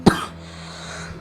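A single sharp cough close to the mic from someone playing a horror game set in a hospital escape, followed by a steady low game hum.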